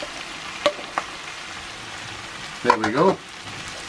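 Onions, carrot and turnip stir frying in a pan, a constant hiss of sizzling with a few sharp utensil clicks, and someone briefly speaks over it near the end.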